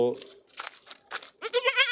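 A mountain goat bleats in short, wavering calls near a young kid, close and fairly loud, the bleats broken by brief pauses.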